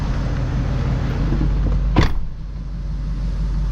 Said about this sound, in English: Just listen to that engine purr.